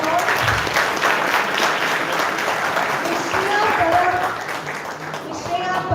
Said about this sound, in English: You can keep the claps going on.